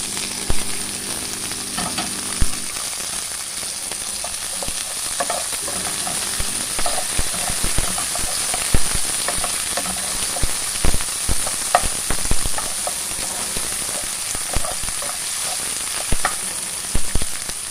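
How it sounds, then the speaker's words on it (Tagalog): Tomatoes stir-fry in a pan for a chicken and vegetable dish, a constant loud sizzle punctuated by frequent scraping and clattering of a spatula against the pan, with no talk. "I-mix natin ang ating kamatis"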